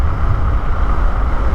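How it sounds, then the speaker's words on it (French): Wind buffeting a helmet while riding an Angwatt X1 2.0 electric scooter (60V, 3600W), a steady loud low rumble of air noise throughout, no talking. "Le vent là qui rentre même dans le casque et tout."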